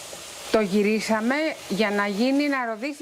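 Flour-coated slices of meat sizzle steadily in olive oil in a frying pan, the crackle running low under a voice talking throughout.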